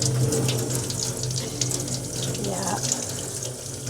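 Tap water streams steadily over a cyanotype print at a sink, a loud continuous close rush, with a brief spoken word over it.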